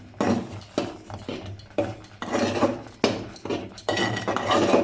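Suji halwa being stirred with chopped almonds in a pan, a spoon scraping and clinking against the metal in repeated close strokes, with no talking.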